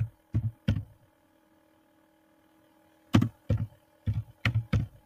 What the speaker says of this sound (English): Then you type Sora